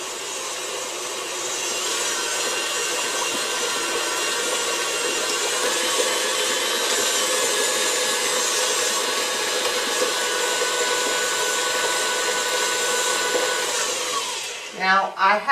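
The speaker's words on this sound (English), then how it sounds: "So you're going to mix it to get that 10x sugar incorporated" An electric mixer beats 10x powdered sugar into a chocolate icing of butter and cocoa, a steady loud whir that runs unbroken for about fourteen seconds before cutting off with a couple of brief knocks.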